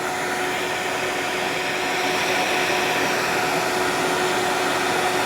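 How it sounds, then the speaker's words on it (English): A rotary power carving tool fitted with a carbide burr works a wooden beaver carving, giving a loud, steady motor whine that holds for several seconds without pause or speech. "Okay, I think we're going to change over to one of them carbide burrs that kind of looks like a stone."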